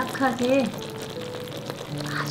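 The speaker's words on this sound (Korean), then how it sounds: "한 2, 3분 정도 아주 바글바글 끓여주세요" Caramelizing syrup for a perilla-seed and nut gangjeong snack bubbles vigorously in a pot, a steady close fizzing hiss, with a voice talking briefly over it at the start and end.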